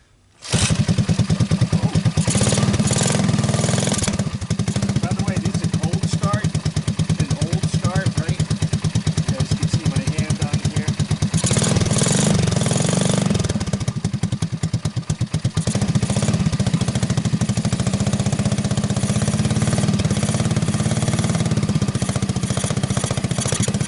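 An old Honda ATC185 three-wheeler fires up from cold and keeps running, a loud, steady engine chug with rough, clattering pulses that persists close up for the whole stretch, with a voice heard briefly.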